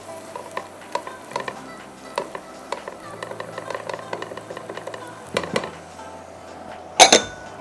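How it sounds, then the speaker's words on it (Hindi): Chopped onion sautés in butter and olive oil in a pan, with soft sizzling and repeated scraping stirs and taps of a utensil, then a louder clatter near the end. "और फिर इसमें हम डालेंगे सबसे पहले प्याज, एक चॉप की हुई प्याज, और इसको हम सौटे करेंगे।"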